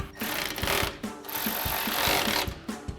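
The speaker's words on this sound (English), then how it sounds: "then we'll go back with our 12mm socket to tighten them down" A 12mm socket ratchet tightens bolts on aluminum drop steps being installed on a Toyota Tacoma, giving repeated close clicking ratchet strokes in a steady back-and-forth rhythm.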